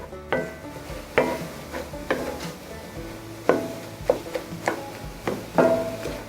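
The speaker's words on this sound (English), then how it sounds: "I'm going to go ahead and add those peppers. And I'm going to add the onion. And we're going to get it all brown together." Sausage with peppers and onion browning together in a skillet, with a soft steady sizzle and repeated scraping knocks of a utensil stirring against the pan roughly every second.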